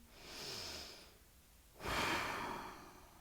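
Two slow, deep breaths during a yoga core session, a soft airy inhale followed by a louder, fuller rush of breath, close to the microphone with no talk.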